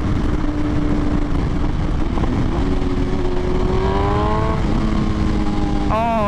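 A tuned 2023 BMW S1000RR motorcycle engine screams loudly and continuously, its pitch climbing through the revs with a brief dip at a gear change, strong and close throughout.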